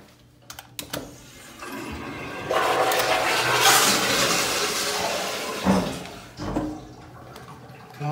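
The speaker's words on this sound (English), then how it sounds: "Oh, it's the water hammer." Plumbing in a men's restroom sounds: a flush-like rush of water builds and runs for several seconds, then a dull thud of water hammer knocks in the pipes, followed by fading trickles and clunks.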